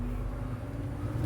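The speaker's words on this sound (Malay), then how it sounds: "itu bunyi lori" A lorry rumbles past on the road right beside a house, a steady low engine drone filling the short moment with no talking.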